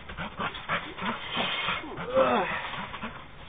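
A small dog pants in quick, short breaths and lets out a brief, high whimper, close by and fairly soft, in a cheerful summer setting.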